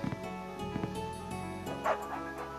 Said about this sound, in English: I heard a dog bark.